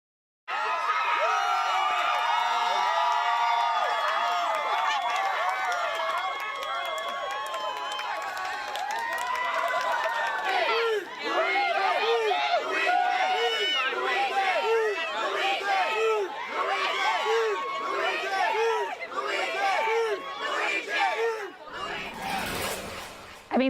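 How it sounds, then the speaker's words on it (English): A large crowd cheers outside a courthouse, dense shouting and whooping sustained and loud throughout, with scattered applause and overlapping voices, fading near the end. "Smug, those are people cheering for someone who took the life of a man"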